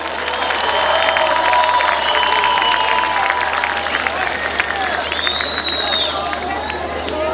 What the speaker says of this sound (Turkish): Bir alkışlar mısın güzel başkanı?